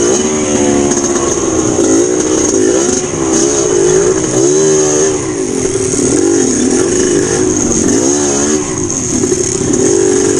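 A 125cc motorcycle engine buzzes loud and close, revving up and down continuously as it labors along a rough trail.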